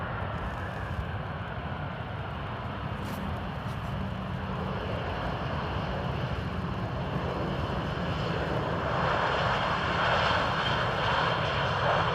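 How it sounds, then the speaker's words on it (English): Air France airliner arriving at Amsterdam Airport from CDG, a faint, distant jet rumble that slowly swells and brightens toward the end as it nears, heard alone. "Air France coming in from CDG."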